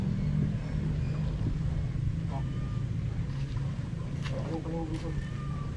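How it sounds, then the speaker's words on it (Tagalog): A strong spring at a rural site in Bato, Camarines Sur, gushes steadily as a constant rushing wash of water, with faint distant voices and a bird-like chirp over the flow. "Lakas ng bukal."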